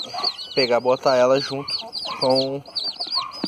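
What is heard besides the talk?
bantam hen clucking with chicks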